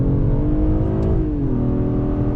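2020 Acura TLX A-Spec V6 accelerating in second gear, its engine note climbing in a steady loud drone heard from inside the cabin with a slight dip in pitch partway through.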